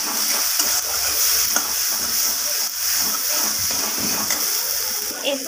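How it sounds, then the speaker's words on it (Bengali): Spices and ginger paste sautéing in a pan for a vegetarian paneer, capsicum, cauliflower and potato curry, a steady close sizzle with intermittent stirring scrapes, no voices present. "এরপর আমি সমস্ত মশলা একসাথে এইভাবে কষিয়ে নেব।"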